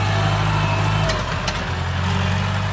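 New Holland TS90 tractor engine pushing soil with its blade, a loud, steady diesel drone with a brief dip in load in the middle before it settles back to a constant hum.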